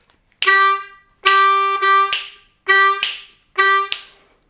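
Four reedy 2-draw notes on a C harmonica, loud and close, in a short rhythmic phrase with brief gaps, each note sustained and then fading.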